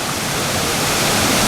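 Water of the Delaware River rushes past an old mill in New Hope, Pennsylvania, a steady broadband roar with no voices.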